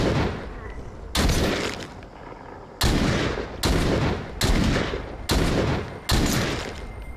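Bursts of heavy video game gunfire with infinite ammo, six sustained loud volleys each lasting about half a second to a second, separated by short pauses, with a voice talking in the gaps.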